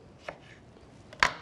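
A knife chops a squeezed lemon half on a cutting board while a sea bass stew is prepared, giving two crisp, close cuts, the second louder and sharper than the first.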